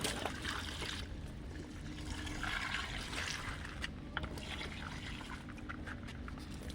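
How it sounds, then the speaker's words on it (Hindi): Water trickles and splashes as it is poured into plant pots before sowing seeds, a steady gurgling flow with brief pauses and no speech. "इस तरह से इनमें सब में हम पानी पहले भरे दे रहे हैं"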